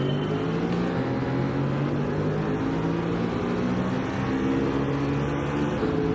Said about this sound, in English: We'll listen to have a bit more engine sound this time.